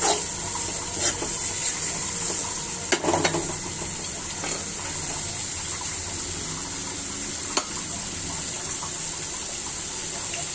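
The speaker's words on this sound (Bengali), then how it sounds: "মশলাটাও ভালো করে কষিয়ে নিতে হয়।" Spice paste with garlic and ginger stir-fried in a pan for a chicken and raw jackfruit curry, a continuous close sizzle broken by occasional spoon scrapes and clinks, no speech.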